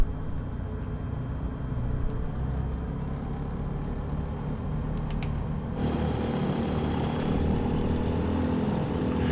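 A VL3 915iS light aircraft engine throttling up in Microsoft Flight Simulator 2020, a steady propeller drone that shifts abruptly to a louder, brighter roar partway through, with no talking.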